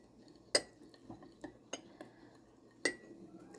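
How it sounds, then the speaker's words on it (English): Dehydrated egg granules stirred in a glass, giving a few sharp, quiet clinks of a utensil against the glass spaced irregularly over a soft background; no talking. "So I'm just going to give this a stir."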